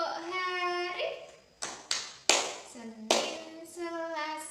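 Children in a classroom clap along to an Indonesian clapping song about the days of the week, a few sharp separated claps amid sung and chanted young voices.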